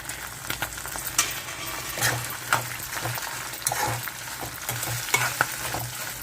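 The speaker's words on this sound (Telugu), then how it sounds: "ఎండుమిర్చి కూడా వేగిపోయినాయి ఇప్పుడు కొంచెం ఇంగు వేసేసుకుందాను" Dried red chilies and asafoetida sizzle in hot oil for a festive tempering, a steady close crackle with scattered sharp pops and occasional stirring scrapes, no talk over it.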